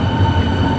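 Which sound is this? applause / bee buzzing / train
train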